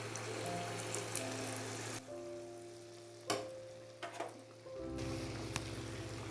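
Wheat flour and banana batter hits hot oil in a pan and sizzles steadily, with a soft stir or scrape partway through and a steady hiss resuming near the end.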